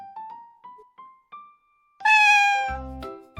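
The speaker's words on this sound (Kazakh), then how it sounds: "Мен мысықты естіп тұрмын." A single loud, drawn-out cat meow rings out close by, preceded by a few short electronic tones and followed by a low thump.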